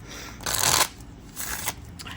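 Tarot cards being shuffled by hand in two short riffling bursts, the first louder and longer, the second briefer, with quiet room tone between and no talking.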